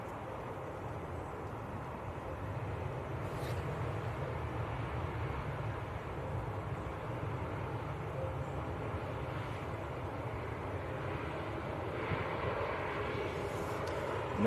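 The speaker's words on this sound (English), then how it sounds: "Pegasus, just about to touch down." A Pegasus Airbus A320neo arriving at Manchester Airport from Istanbul, heard as a continuous mid-distance engine rumble and whine that swells slightly as it comes in to touch down, with no talk.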